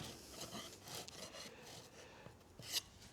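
A planer blade scrapes along a panel on a DIY camper kitchen unit, making soft, faint rubbing strokes across the wood, with a sharper scrape near the end and no talking.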